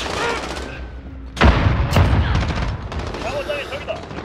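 Enemy gunfire in Call of Duty: Modern Warfare rips out in loud, close automatic bursts after a quieter stretch, followed by continued rattling shots and a game voice speaking over the action.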